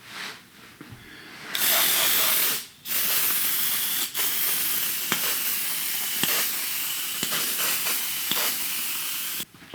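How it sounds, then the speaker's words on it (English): A Preval sprayer mists de-waxed shellac sealer onto a carved wooden board in a series of loud, sharp hissing bursts separated by brief pauses, with no talking. "I'm just using this Preval sprayer, and I'm using de-waxed shellac as my sealer."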